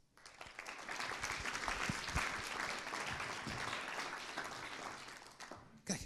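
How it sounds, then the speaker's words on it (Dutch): Audience applause at a presentation of a Dutch policy report on revaluing culture, a steady wash of clapping that swells after a soft start and holds, fading near the end with a brief thump. "mag ik een heel groot applaus voor Barbara Visser en Joop Daalmeijer."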